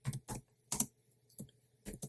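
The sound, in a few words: typing commands on a computer keyboard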